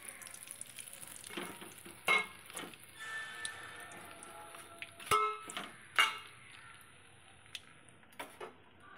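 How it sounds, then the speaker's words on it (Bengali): Koi fish frying in hot oil sizzles steadily and close, broken by a few sharper crackles and clatters from turning the pieces. No one speaks. "এক এক করে সব মাছগুলো আমি ভেজে নিলাম।"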